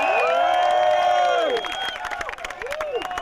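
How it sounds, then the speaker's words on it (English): A motocross crowd at a Washougal MX podium cheers for Jeff Emig with loud sustained shouting and whistling, many voices blending into a dense roar near and far. "I take it we got some Jeff Emig fans out there in this crowd"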